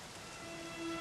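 Steady rain patters through a Dragon Quest XI S video game cutscene, a soft, even wash of drops filling the moment with no voices.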